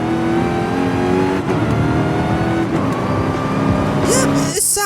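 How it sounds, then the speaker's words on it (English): Dodge Hellcat in Forza Horizon 5, engine revving loud and continuous with a strained, steady tone and shifting pitch, ending in a brief higher-pitched burst. "Here I'm driving the Hellcat"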